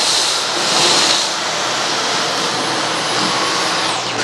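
Dyson Gen5 cordless stick vacuum fitted with its fluffy soft-roller floor nozzle, giving a steady, loud high-pitched motor whine with broadband airflow hiss that swells slightly near the start and holds evenly throughout.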